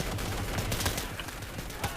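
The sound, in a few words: BAR automatic rifle fire in video game Day of Infamy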